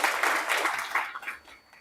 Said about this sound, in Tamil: ஒரு கைத்தட்டல்